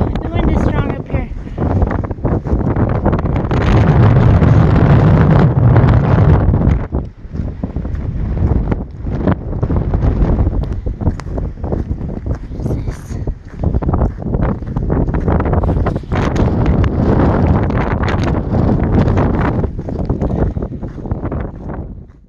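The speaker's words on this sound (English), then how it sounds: "Ooh, the wind is strong up here." Strong wind buffets the microphone on a high mountain section of the Pacific Crest Trail, a loud continuous roar with gusts, and a person speaks intermittently over it.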